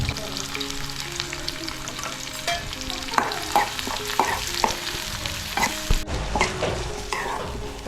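An oyster dish sizzles steadily in hot oil on a wood-fired stove while a utensil stirs and scrapes the pan in irregular strokes, close up.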